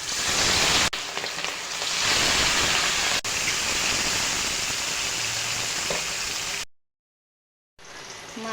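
Hilsa pieces go one by one into hot oil in a wok, raising a loud, steady, hissing sizzle that fills the clip and cuts out briefly near the end before resuming.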